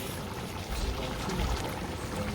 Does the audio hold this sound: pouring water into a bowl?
yes